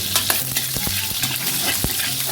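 Garlic sizzles in hot oil in a pan, stirred with a few sharp spatula taps and scrapes over a steady crackling hiss, close up and fairly loud, with no voices.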